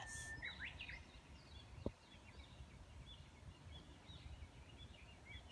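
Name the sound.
hwamei (Chinese hwamei) singing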